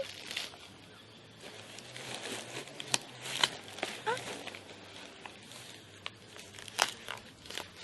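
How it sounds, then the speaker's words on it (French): Bubble wrap being unwrapped from a parcel during an equestrian gear unboxing: crinkling and crackling plastic handled in bursts, with sharp crunches and rustles at irregular intervals, close to the microphone. "Donc après... papier bulle."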